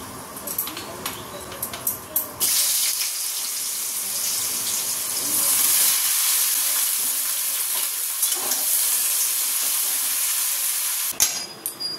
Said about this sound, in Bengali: দই পটল করবো বলে লাল লাল করে ভেজে নিচ্ছি